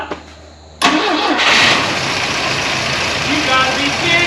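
An old Volvo wagon's carbureted engine, abandoned for years, cranks and fires into a loud rough idle after a quiet start, with excited voices talking over the running engine.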